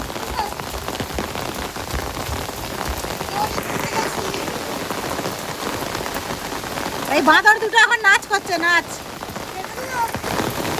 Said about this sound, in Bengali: ও বৃষ্টিটা জোর এসছে